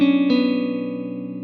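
A sustained, effects-laden electric guitar tone from a Kontakt sample library rings out, a second note struck partway through, then the chord slowly decays with a shimmering, processed sheen.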